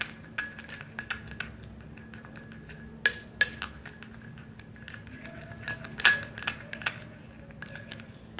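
Ingredients for a homemade face bleach, including honey, being mixed in a bowl, with soft irregular clinks and scrapes of a utensil against the dish that peak in a few sharper taps.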